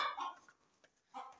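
An Aseel hen gives a couple of short, soft clucks close by, separated by a quiet pause.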